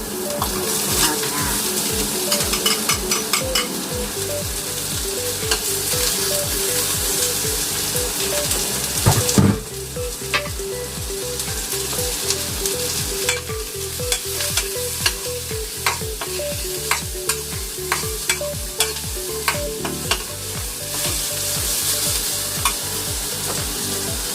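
Lechon belly sizzling loudly in a pan while being stirred and scraped, with steady frying crackle throughout and repeated rhythmic clatter of the utensil against the pan, plus a brief clunk partway through.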